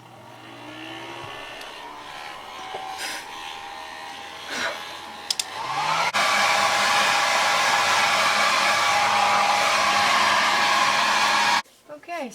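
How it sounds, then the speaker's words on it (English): A handheld hair dryer switches on midway and blows loud and steady at close range for several seconds, then cuts off abruptly, after quieter handling noises and small clicks at the start. "I'm going to take a hair dryer. I'm just going to dry it."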